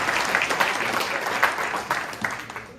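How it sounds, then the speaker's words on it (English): An audience at a panel event celebrating the Long Island South Shore Waterkeeper claps in brief, scattered applause. Individual claps stand out against a soft crowd patter. "round of applause for me."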